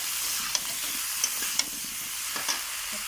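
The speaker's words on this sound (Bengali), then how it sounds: "লঙ্কার গুঁড়ো দিয়ে আমি এটাকে ভালো করে কষিয়ে নিচ্ছি।" Rohu fish curry with turmeric and chili powder is sautéed in a pan under a constant bright hiss, with a few light stirring taps at scattered moments.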